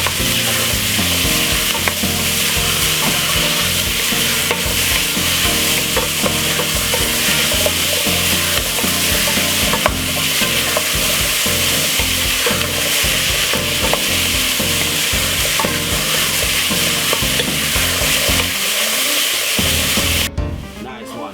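Pumpkin is stir-fried in a pan, giving a loud, continuous sizzle with constant stirring and scraping that stays steady for about twenty seconds before dropping off at the end.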